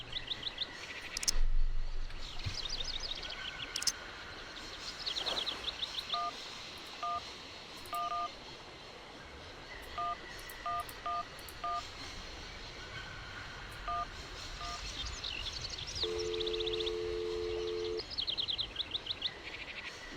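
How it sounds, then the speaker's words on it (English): A mobile phone keypad in the Syberia video game sends short DTMF beeps, dialed in quick uneven groups, then a longer steady tone, with birdsong chirps and a low rumble in the background. "let's phone that on our mobile"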